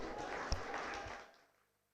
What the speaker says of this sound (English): Let us welcome Mr. Egan onto the stage with a roaring round of applause.